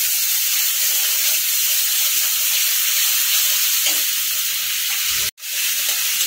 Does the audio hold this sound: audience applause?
no